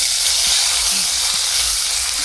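Spices stirred and fried in a pan on a village clay stove make a loud, dense sizzle and hiss, with soft stirring knocks in the low end and no voices.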